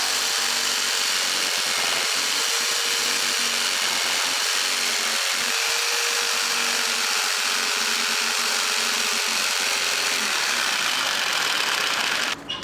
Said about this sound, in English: I'm probably going to use my jigsaw to rough cut this out